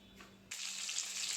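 Fish laid into hot oil in a wok: after a quiet half-second a bright, dense sizzle bursts on and holds steady and close.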